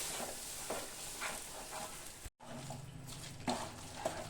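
Chana dal paste gently frying over low heat gives a soft, steady sizzle with occasional stirring scrapes, broken by a brief cut midway and continuing alone at moderate level.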